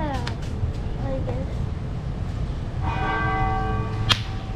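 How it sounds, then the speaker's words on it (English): A church bell in the Philippines rings out several times, its tones ringing and decaying over a background of voices and traffic noise. "Ring the church bell."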